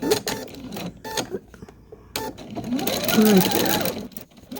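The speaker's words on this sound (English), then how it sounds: "I'm just going to sew down this one." A domestic sewing machine stitches quilt fabric scraps in short, chattering runs with pauses between them, while someone talks briefly in between.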